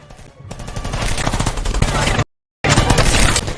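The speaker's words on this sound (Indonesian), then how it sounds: "tertahan oleh tembakan beruntun dari para tentara" Rapid bursts of soldiers' gunfire in a film crackle in a dense, continuous volley, loud and close, broken by one brief moment of silence before the shooting resumes.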